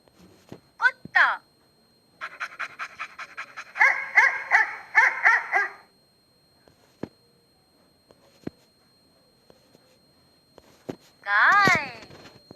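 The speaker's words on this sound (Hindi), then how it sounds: "कुत्ता" A dog close by yips and barks in a rapid series of short, sharp calls mixed with whimpers, then goes quiet before one long high whine, heard alone with no talk.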